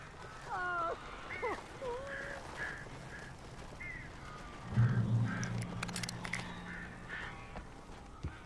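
Crows in the Alan Wake video game caw in short, hoarse repeated calls at moderate distance, set against a dark ambient drone. A low rumble swells partway through.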